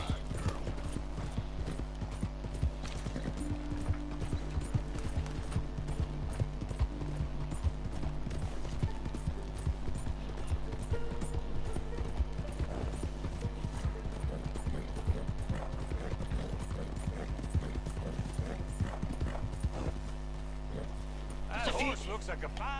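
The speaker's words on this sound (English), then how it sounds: "That horse looks like a fine traveling companion." A horse walks in the Red Dead Redemption 2 video game, its hooves clip-clopping in a steady repeating rhythm, with faint tack and mechanical clinks and a low background hum under it all.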